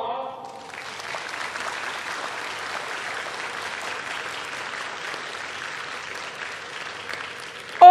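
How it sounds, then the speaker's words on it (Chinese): A large audience at a National Day ceremony breaks into sustained, even applause that fills the space for several seconds before a voice cuts in at the end. "现在我要请大家一起用最热烈的掌声来表达我们最诚挚的"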